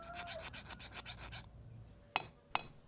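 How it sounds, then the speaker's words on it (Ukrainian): Hand file rasping along the edges of a stainless steel fishing lure fork, a run of quick rhythmic strokes up close, followed by two sharp metallic clinks after a short pause. "Округлимо нерівності і знімемо гострі кромки."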